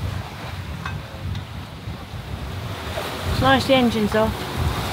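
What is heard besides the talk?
ocean swell waves while sailing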